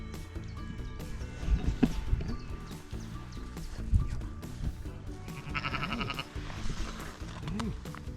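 Ewes and lambs in a flock bleating in a barn at lambing time, several overlapping calls near and varied in pitch, with light rustling and a voice in the background.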